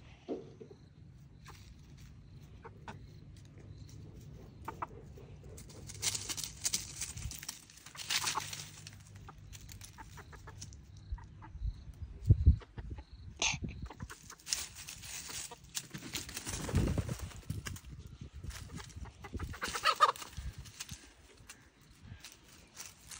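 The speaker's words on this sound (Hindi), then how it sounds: "देखा ना कि चूजे लड़ाई भी करते।" Small chicks chirping and clucking as they scuffle in a farmyard, with intermittent bursts of peeping and squabbling, moderately near, over a low background hum.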